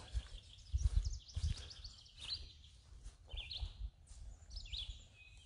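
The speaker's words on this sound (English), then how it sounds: "I think that's him singing up over there. Yep, there's the red-eyed vireo." A red-eyed vireo sings from high in the trees at an arboretum, repeating short whistled phrases separated by brief pauses, somewhat distant, with low rustling and handling noise close by.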